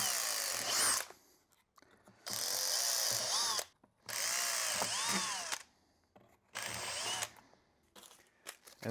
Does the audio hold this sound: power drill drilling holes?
yes